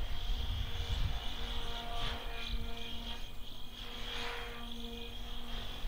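A Synergy 696 RC helicopter flies at 1400 RPM, giving a steady, loud rotor whine with a constant engine drone that swells slightly as it passes, with no talk.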